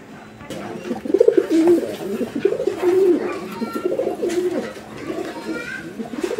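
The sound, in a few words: red Gola pigeons cooing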